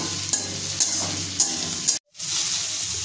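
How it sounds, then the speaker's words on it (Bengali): Blended spice paste frying with softened onions in a pan for a green moong and banana-flower dish, a steady close sizzle punctuated by spatula taps and stirring scrapes, with a brief silent gap. "এরপর আমি ব্লেন্ড করা মশলাটা দিয়ে দিলাম। এটাও আমি পেঁয়াজের সাথে মিশিয়ে নেব।"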